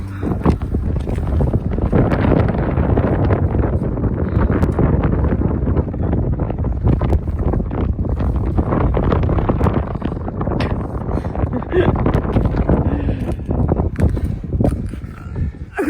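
Headwind buffets the microphone during an outdoor workout, a continuous rough low roar of wind noise with gusty fluctuations and no clear talk.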